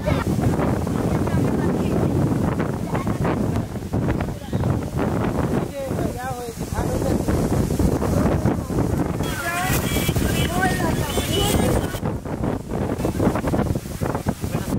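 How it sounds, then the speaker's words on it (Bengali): Strong wind buffets the microphone outdoors near open water, a constant loud rumbling roar with gusty bursts, while people talk over it throughout. "এত সুন্দর বাতাস"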